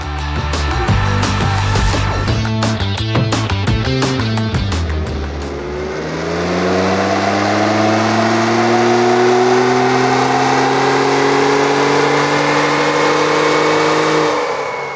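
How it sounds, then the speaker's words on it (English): A 2021 Ford Bronco fitted with a K&N cold air intake and a tuning box revs hard on a Mustang dyno, loud rapid throttle blips giving way to a long sustained rising pull, alone with no talk. "We have wrapped up our final dyno runs with the Ford Bronco, including the K&N Cold Air Intake and our VR tuned tuning box."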